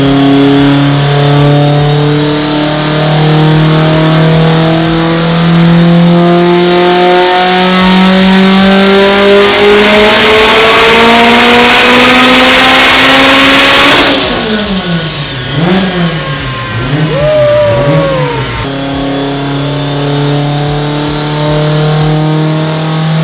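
A 1000hp Subaru STI engine revs hard under load, climbing steadily in pitch for several seconds to a screaming peak, then dropping and surging again in quick bursts, loud and close.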